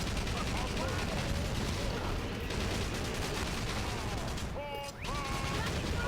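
Dense, continuous gunfire and artillery rumble from the video game Battalion Wars, with shots aimed at a tank during a heavy battle, loud and unbroken across the clip with faint whistling tones near the end.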